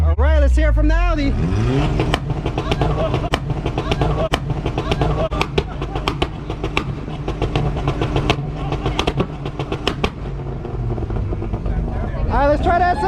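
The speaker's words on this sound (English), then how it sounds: "let's hear it from the Audi" An Audi car engine revving hard at an outdoor car meet, a long run of sharp, popping rev bursts and crackles over a steady engine drone, loud and close, with people shouting before and after.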